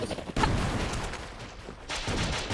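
Rapid, continuous gunfire from the side-scrolling action game Broforce, loud and dense with a brief dip before bursts resume, heard alone without talk.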